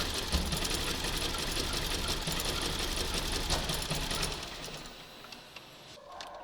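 A Škoda Octavia 2.0 FSI engine with a start-then-stall fault runs at a steady idle with fast ticking and clatter, loud and continuous, then fades slightly toward the end.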